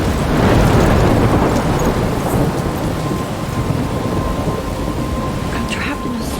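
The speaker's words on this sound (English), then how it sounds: "I'm trapped in a storm." A thunderstorm rages in the Life is Strange game, with a deep rolling thunder rumble swelling at the start and heavy rain hissing loudly throughout, close and enveloping.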